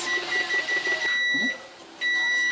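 Kitchen oven timer going off, a bright electronic beeping repeated in quick pulses, then a steady tone that stops briefly and resumes, loud and close in a quiet room.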